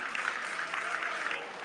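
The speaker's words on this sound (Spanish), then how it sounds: "Doble aplauso" An outdoor crowd at a political event in Cuautitlán, Jalisco applauds, a fairly quiet wash of many hands clapping, steady and slightly distant.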